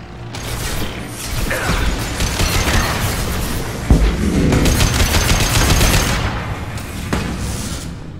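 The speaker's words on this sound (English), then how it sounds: "турельки постреляли. Нет, турелька взорвалась." Defensive turrets fire and explode during a Mass Effect 2 battle, with loud mechanical clanking, rattling bursts of gunfire and a sharp blast partway through, dense and close throughout.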